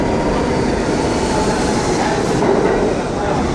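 A New York City subway G train rumbles steadily and loudly into the station, a dense, continuous roar of wheels and rail noise with faint clicking.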